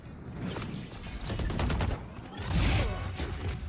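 Gunfire in Valorant punches through walls, a dense spray of rapid shots that surges and fades across the moment, fairly loud and close, with no voices over it.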